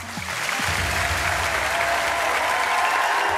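Applause from a live audience at a stage hypnosis show, starting quickly and holding as a steady, dense wash of clapping with no break.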